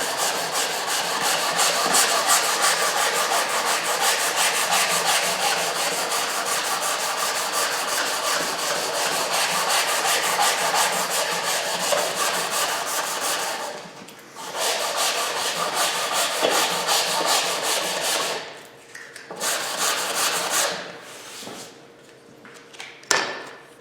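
Hand sanding of a wooden guitar neck on a 335-style kit, working out scratches and tool marks left by the previous abrasive grit. The rubbing strokes are steady and loud, close up, with short pauses near the end and no talking.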